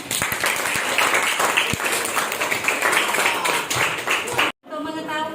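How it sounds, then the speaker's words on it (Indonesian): Classroom of students clapping together at the end of a lesson, several seconds of dense, lively close applause mixed with voices, stopping abruptly. "tepuk tangan buat kita semua"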